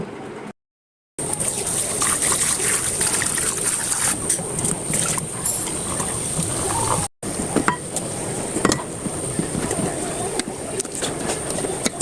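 Green chilies and coriander leaves washed under running kitchen water, a continuous splashing rush with brief gaps and small knocks of handling, fairly close and loud.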